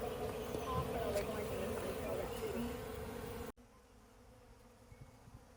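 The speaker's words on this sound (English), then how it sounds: "you get to watch some bees feeding on some crushed comb" Honeybees feed on crushed honeycomb with a steady, dense close-up buzz that cuts off abruptly midway, leaving a quieter hum and faint ticks.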